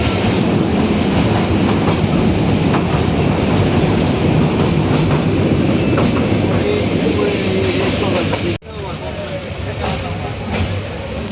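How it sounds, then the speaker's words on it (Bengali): A passenger train rumbles through Shaistaganj railway station in early-morning rain, with loud, continuous wheel clatter and rail noise close by. Voices are faintly audible under it. "Shayestaganj railway station."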